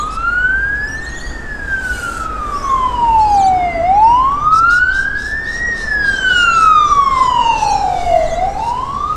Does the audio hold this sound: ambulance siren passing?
yes